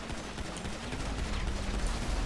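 Gunfire in the video game GTA V: a dense, continuous burst of rapid shots with steady loud impact noise throughout, with no voices over it.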